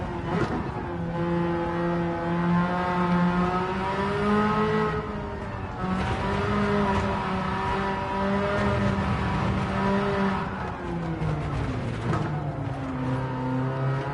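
An engine-swapped Mazda RX-8 drives in Gran Turismo 7, its engine note rising and falling through steady revving and gear changes, loud and continuous without any talk.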